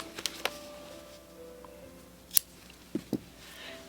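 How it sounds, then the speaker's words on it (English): Scissors snipping through yarn at the end of a crocheted Tunisian scarf, a few short, crisp cuts spaced out against a quiet room. "and then just cut your yarn."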